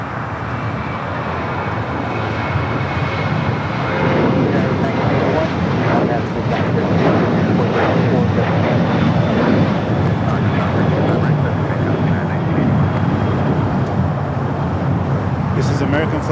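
An airliner takes off from the south side at LAX, a broad engine roar building and holding loud and steady across the stretch, with a voice talking over it.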